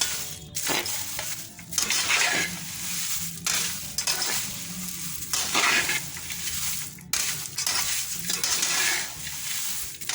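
Curry leaves dry-roasting in a pan while being stirred for sambar spice powder: repeated scraping, rustling strokes come in close bursts, with a faint crackle of drying leaves and no talking.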